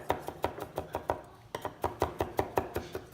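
A knife rocks back and forth mincing parsley on a cutting board, giving a steady run of about twenty crisp, close taps in quick, even rhythm with a brief pause midway.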